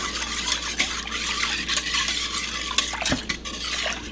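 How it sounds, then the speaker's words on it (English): Whisk stirring sauce in a crock pot to dissolve sugar for beef and broccoli, continuous scraping and swishing strokes with light metallic clinks, close and fairly loud with no talk. "I'm going to whisk that together just to dissolve the sugar."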